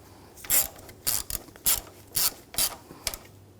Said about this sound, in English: And we'll tighten those down.